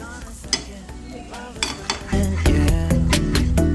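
Egg noodles stir-fried and tossed in a pan over full flame, with steady sizzling and repeated scraping and clanking of a utensil against the metal. Rhythmic stirring strokes sit over the frying hiss, close and fairly loud, and music plays underneath.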